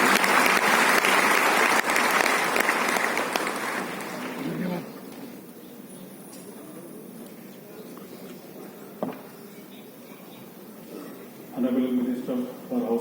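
An audience at a government foundation day ceremony gives loud applause that fades after a few seconds, followed by quieter room sounds and someone speaking.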